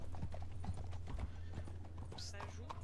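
Horse hooves clip-clop in a steady rhythm in a video game, with a horse whinnying partway through, all under continuous talking and background game sound.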